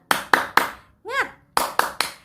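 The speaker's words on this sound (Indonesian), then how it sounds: "Oke, 1, 2, 3, tepuk semangat" A primary school class performs a rhythmic clapping chant, with three sharp group claps, a sung shout of voices rising and falling, then three more claps, loud and close in a classroom.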